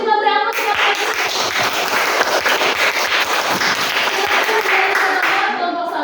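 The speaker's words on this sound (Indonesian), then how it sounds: "Kita beri aplaus" A classroom group applauds a student group's class presentation, dense steady clapping from many hands for about five seconds, with voices faintly mixed in before it tapers off.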